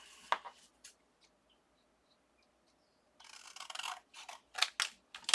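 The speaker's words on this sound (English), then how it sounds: "Scissors." Scissors snip through a paper tag used in card crafting, with a sharp cut near the start, a pause, then a quick run of close, crisp snips toward the end.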